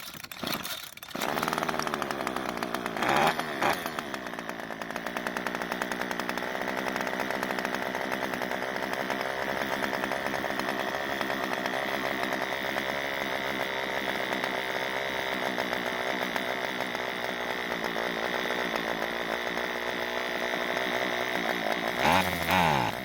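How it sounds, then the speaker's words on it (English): Ryobi string trimmer with a small two-stroke engine idling steadily and loudly up close, holding one buzzing pitch without revving up despite the trigger being squeezed, a faint sputter near the end. "it started and ran, but after getting it into the run position, it wouldn't rev up when squeezing the trigger"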